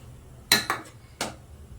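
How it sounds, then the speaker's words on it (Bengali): A spoon clinks against a pot while stirring sweetened milk, three or four sharp metallic knocks close by with quiet gaps between them. "এবার ভালো করে দুধটা নাড়ানো হচ্ছে"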